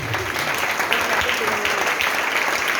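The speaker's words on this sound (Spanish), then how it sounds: "Dale un aplauso fuerte al Señor en el Padre" A church congregation claps loudly and steadily in praise during an anniversary service, dense applause filling the room with voices mixed in under it.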